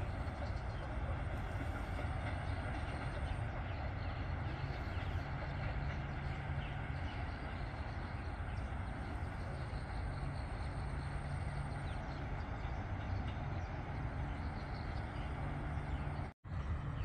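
A Kiha 183 diesel train rolls through the Bang Sue curve with a continuous, fairly distant rumble of engine and wheels on rail. The sound stays steady for most of the pass and drops out briefly near the end.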